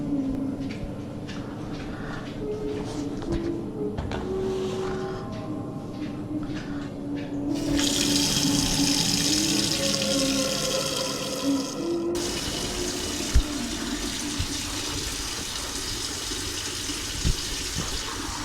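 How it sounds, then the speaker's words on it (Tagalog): Water runs steadily from a broken faucet that will not shut off, a continuous hiss and gush that swells louder partway through, with a few faint knocks and no voices. "Ilang oras na tumatakbo yung tubig nito."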